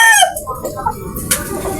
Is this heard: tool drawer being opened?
no